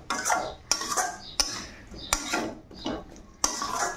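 Vegetables including potatoes and kakrol are stirred in a pan, with sharp repeated scrapes and knocks of a utensil against the metal at an irregular pace, close and fairly loud.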